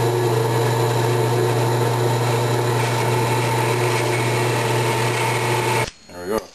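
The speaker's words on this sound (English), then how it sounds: "we'll drill a half inch hole off to the side here" A power drill whines steadily at close range with a constant hum while drilling a half-inch hole in metal for a gunsmithing bench block, then cuts off near the end, followed by a brief clatter and shuffle.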